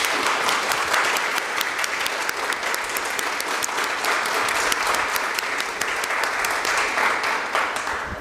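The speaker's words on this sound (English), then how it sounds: "Can we give our panelists a round of applause?" Sustained, loud applause from an audience thanking the panelists at an education equity discussion, a thick, even roar of many hands clapping that holds steady throughout with no speech.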